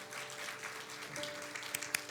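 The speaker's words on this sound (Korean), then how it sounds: "따뜻한 박수로 우리 환영하도록 하겠습니다" Soft, scattered applause from a church congregation in a large sanctuary, steady but fairly distant, with a few sharper claps near the end.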